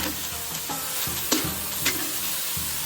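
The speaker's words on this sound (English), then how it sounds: "Stir fry a couple of minutes until it's fully coated everything." Fish maw and seafood stir-fried in a pan, with a steady sizzle under repeated scraping spatula strokes and a few sharper clanks against the pan.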